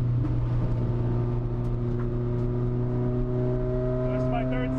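Car with a race-bred wing lapping Chuckwalla Valley Speedway, a loud, steady engine drone with strong low harmonics held throughout, heard from on board with no talk.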